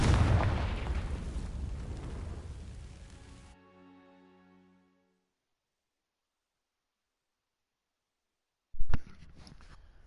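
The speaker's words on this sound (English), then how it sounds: "These dry vines are one spark away from becoming kindling. Confringo!" Confringo fire spell in the Hogwarts Legacy video game setting dry vines alight, heard as a loud burst and roaring crackle that fades to a ringing tail, then silence, then a brief later crackle.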